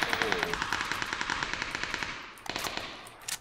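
Automatic gunfire in the battle royale game PUBG, a fast, steady rattle of rounds at moderate distance, followed by a few louder, closer shots near the end.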